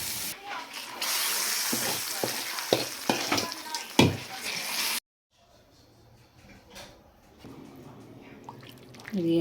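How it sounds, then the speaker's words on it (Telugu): Mustard seeds, dried red chillies and curry leaves sputter in hot oil for a loud Telugu-style tempering, a dense crackling sizzle with stirring clicks that cuts off halfway, then a quieter kitchen background follows. "నూనె, తాలింపు గింజలు, ఎండుమిరకాయలు, కరివేపాకు, మిక్సీ పట్టుకున్న మసాలా వేద్దాం"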